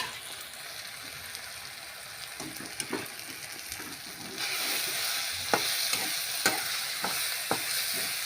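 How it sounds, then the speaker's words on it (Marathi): Masoor dal being stirred in a hot pan, a steady sizzle with scraping strokes of a spoon that grow louder and busier halfway through, close and alone. "आधी हलव"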